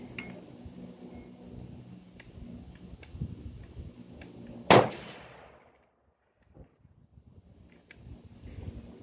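A single sharp, loud .308 Winchester rifle shot fired with handloaded Hodgdon CFE223 powder, its echo fading quickly, amid outdoor wind noise and faint background clatter.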